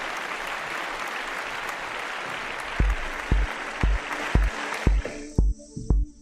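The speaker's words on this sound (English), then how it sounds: "And a big round of applause for Michael." An audience claps steadily at a night talk show, a broad wash of applause that fades out, with some sharp knocks toward the end.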